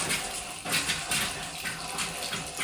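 Hot and cold water running full blast from a sink faucet on PEX supply lines with new stops, a steady broadband rush that surges slightly, close and loud with no voices.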